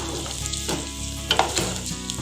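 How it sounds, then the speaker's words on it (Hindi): Onion, ginger and garlic sizzling in oil in a pan, a steady dense crackle and hiss with occasional louder pops as the pieces fry, close and continuous with no talking. "इन सब चीज़ों को मैं 3 से 4 मिनट तक फ्राई कर लूँगी।"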